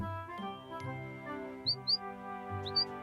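A small cartoon bird chirps in quick bright pairs of high tweets over a gentle melodic music background, the calls short and clear near the end.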